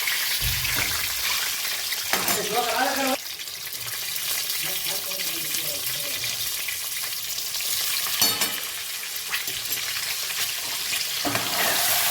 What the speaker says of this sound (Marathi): त्याच्यात मी अंडे टाकून घेते परतून.